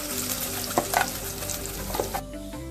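Ground masala paste frying in a pan for mutton gravy, a continuous sizzle broken by a few sharp scrapes and stirs before it quiets near the end.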